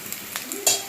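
Onions fry in a pan while being stirred, a brief soft sizzle broken by a few light scrapes and taps of a utensil on the pan.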